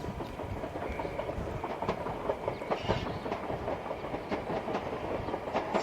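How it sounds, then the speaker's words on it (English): Trains roll along a railway beside the Hackney Marshes, a steady rumbling clatter with rhythmic wheel clicks that carries on throughout at moderate distance, with no voices. "Sorry about the trains."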